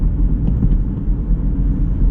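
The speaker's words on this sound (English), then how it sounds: "throw it in a lower gear and we'll take off" A 2024 Honda Civic engine pulls hard in a lower gear, a loud, dense low rumble droning steadily from inside the cabin with no voices.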